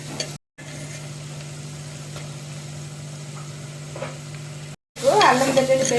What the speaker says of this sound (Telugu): అల్లం వెల్లుల్లి పేస్ట్ అనేది యాడ్ చేసుకున్నాను.